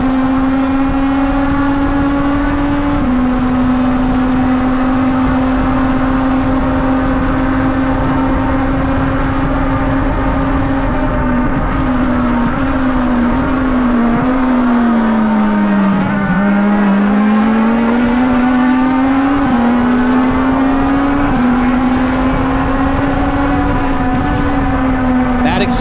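Legend race cars run on the Charlotte Roval, a steady loud buzzing engine drone holding pitch with brief dips and rises as drivers lift and accelerate through a chicane, with a commentator talking over it throughout.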